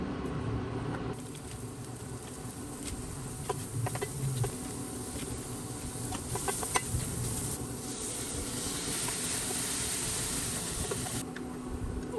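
Green onions sizzle in a pan while kimchi fried rice is being made, a steady soft hiss and crackle that carries on throughout, with scattered faint clicks and pops.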